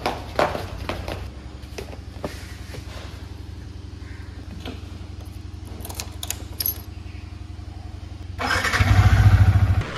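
Motorcycle ridden on a road while someone films handheld with an iPhone 13, giving a steady low engine drone with wind rumble throughout, swelling louder near the end as the bike accelerates.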